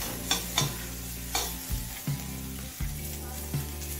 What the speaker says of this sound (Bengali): হলুদ গুঁড়ো দিয়ে চিংড়ি মাছের মাথাটা আরো কিছুক্ষণ ভেজে নিলাম।